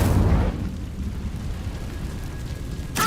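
An Incendio fire spell cast in the Hogwarts Legacy video game: a short burst of flame at the start, then a low steady rumble and a faint crackle, with a sharp hit right at the end.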